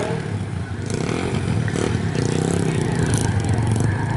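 A racing motorcycle engine keeps running after a crash at a junior race meeting at Rosebank, a steady, loud mechanical drone with rattly clatter that holds on through the whole stretch, with no voices.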